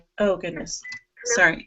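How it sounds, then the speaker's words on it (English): A mobile phone chimes with a brief notification tone during a worship team hangout conversation, a short electronic blip between bursts of speech as the speaker reacts and apologizes. "That was my phone that I forgot to put on Do Not Disturb."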